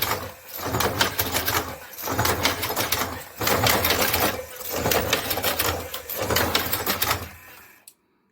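A Karaşimşek TM Pro tobacco cigarette rolling machine runs in repeated mechanical cycles, each a dense clattering whir lasting about a second and a half between short pauses, fairly loud and close, stopping near the end.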